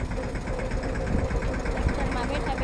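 A tractor engine idles with a low, steady knocking rumble while people talk nearby over it.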